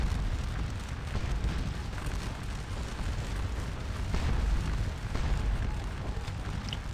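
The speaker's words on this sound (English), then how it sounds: "And here we got our guns all set up, bombing away on the fort." Artillery guns shell a fort in the Scourge of War strategy game, producing a continuous low rumble of booms and distant detonations, fairly quiet and with no talking.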